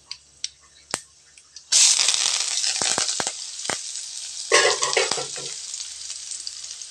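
Finely chopped onion and torn curry leaves drop into hot oil in a pan for rava dosa batter, bursting into a loud, bright sizzle after a few light clicks, then frying steadily with stirring scrapes and a second surge of crackling.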